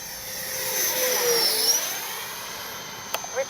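A Freewing 90mm F4 radio-controlled model jet passes overhead, its steady turbine-fan whine and roar rising and falling in pitch, loudest midway through and fading, with a couple of brief knocks near the end.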